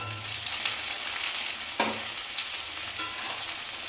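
Potato pieces go into a pan of browned onions and fry with a steady crackling sizzle, with a brief stirring scrape partway through, close up and with no talking.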